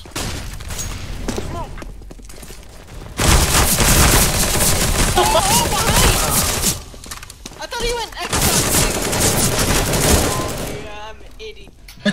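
Loud video game gunfire comes in long, dense rapid-fire bursts separated by short lulls, with voices heard at times.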